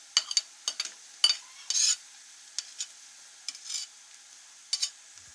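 Onions and garlic paste fry in a pot over a high flame, with short scraping stirs of a spoon and brief sizzling bursts coming in irregular strokes, close and fairly quiet, without talking.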